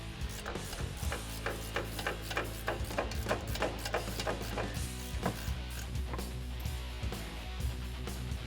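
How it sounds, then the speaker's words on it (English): Ratcheting 15mm wrench loosening the top strut tower nuts on a 2006-2018 Ram 1500, a quiet run of rapid regular ratchet clicks over a low steady hum. "We're gonna loosen up these 3 top nuts."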